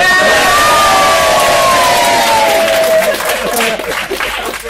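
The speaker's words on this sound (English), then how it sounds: "So I've got a cheer and a boo now, that's pretty equal, isn't it?" Wedding guests during a best man speech erupt in loud mixed cheering and booing, with rising whoops and shouted voices over clapping that tapers off after a few seconds.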